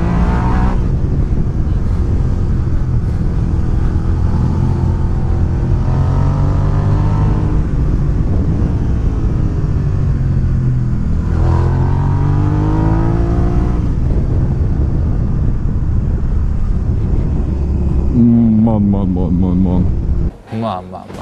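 Suzuki SV650 motorcycle engine climbing a mountain pass, a loud steady drone whose pitch rises and falls through gear changes and part-throttle pulls, with heavy wind rush throughout and a brief voice near the end.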